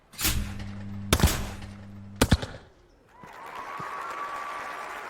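In the London 2012 video game, skeet doubles ring out as sharp, loud shotgun reports about a second apart over a steady game backdrop. A brief quiet follows, then sustained crowd applause.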